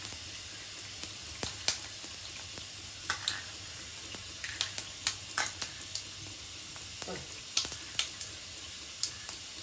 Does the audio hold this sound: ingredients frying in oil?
yes